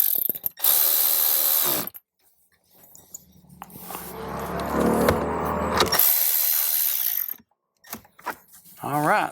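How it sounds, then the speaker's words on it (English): Hand ratchet turning screws into a trim panel inside a 2018-or-later Jeep Wrangler JL, a busy run of close mechanical clicking and rattling for several seconds, set apart by quiet gaps and short bursts of handling noise. "Make sure I get my ratchet going the right direction. Screw number 1."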